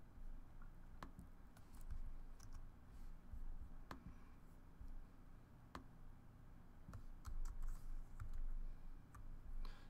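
Sparse keystrokes on a computer keyboard as a group join code is typed, scattered individual clicks spaced irregularly over quiet background, faint and close with no speech.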